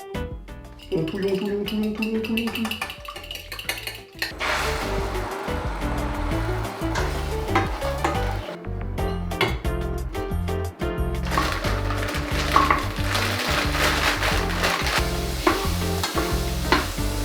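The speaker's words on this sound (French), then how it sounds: "On touille." Food sizzles steadily in a frying pan while being stirred, with a continuous crackling hiss and scraping over background music, close and fairly loud throughout.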